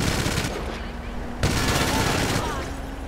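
Machine gun nest firing in GTA, a dense, loud, continuous rattle of automatic gunfire with a brief break near the middle before the burst resumes.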